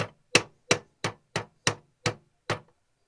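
Eight sharp, evenly spaced metallic taps, close and distinct, as a C-clip is tapped into the slot of an A&K MK46/M249 airsoft gearbox; no voices.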